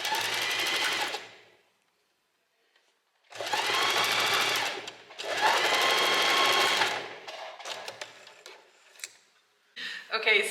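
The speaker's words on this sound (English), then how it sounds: "fold the seam allowance inwards, like this, and then do a top stitch" A sewing machine top-stitches a folded seam on bedsheet fabric in three bursts of rapid, steady whirring, close and loud. Quiet pauses and small handling clicks fall between the runs.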